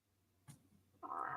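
A person imitates a cat, a short faint breath followed by a drawn-out mewing vocal meow, quiet and close in an otherwise still room.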